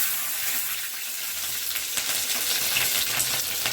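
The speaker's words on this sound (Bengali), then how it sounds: "এখন দেব কেটে রাখা কাঁচা লঙ্কা।" Chopped green chillies dropped into hot oil with cumin seeds for a vegetable curry, a loud, steady close sizzle with crackling bursts, no talking.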